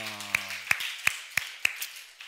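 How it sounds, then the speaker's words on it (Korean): A congregation at a church service claps in unison after a blessing: five sharp, evenly spaced claps ring out after a brief sustained tone, then the hall falls quiet. "우리 하나님께 영광의 박수 올려드리겠습니다"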